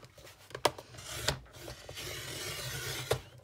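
Folded heavy 280 gsm watercolor paper being cut: a close, dry rasping scrape with a few sharper snaps along the way, no talking.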